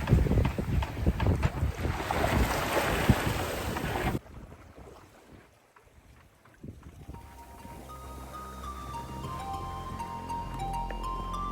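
Wind blowing across a sailboat at sea, off the Cornish coast near St Agnes Head, first as loud, buffeting microphone rush, then dropping to a quieter steady hiss with a low drone underneath.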